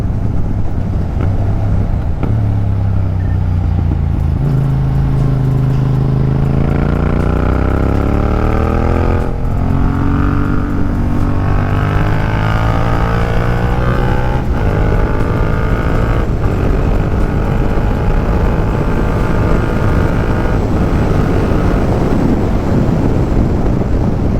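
A new motorcycle ridden on the road in cold weather, its engine note rising and falling through gear changes, loud and steady throughout with heavy wind rush over a helmet-mounted camera.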